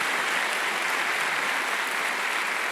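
A church congregation applauds during a sermon, a dense, steady roar of many hands clapping at once, loud and even throughout.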